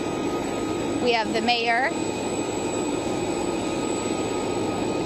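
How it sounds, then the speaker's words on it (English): Air Force 2, a government jet, arriving at Maxwell Air Force Base makes a steady, broad roar of jet engines that continues under someone speaking briefly near the start. "that is her coming in right now, Air Force 2, coming right into Maxwell Air Force Base"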